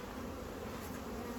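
Honeybees flying around hives in a botanical garden, a faint, continuous buzzing drone from many bees in the air with no voices.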